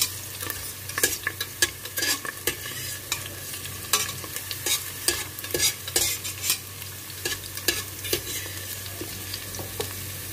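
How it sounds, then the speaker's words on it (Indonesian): Carrots and raisins fry in oil for nasi bukhari, with a spatula scraping and tapping the pan in a quick, uneven rhythm over a soft continuous sizzle, close by and without voices. "Ini digoreng dulu ya, wortel sama kismisnya."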